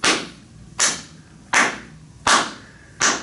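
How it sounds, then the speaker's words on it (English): Five sharp, loud hand claps spaced about three quarters of a second apart, each a crisp close slap with a short decay into a quiet room. "I'll do clapping."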